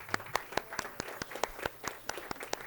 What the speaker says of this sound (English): I would like for us to give a round of applause to the wonderful Dorothy Dahl